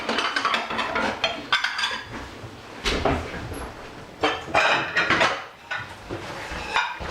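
Plates and dishes clink and clatter in a home kitchen while a crumbed chicken breast and roasted vegetables are plated up, with several sharp, close knocks and scrapes in irregular bursts and a little quiet talk.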